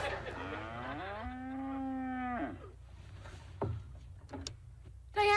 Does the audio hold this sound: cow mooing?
yes